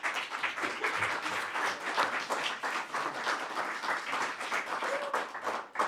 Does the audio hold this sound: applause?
yes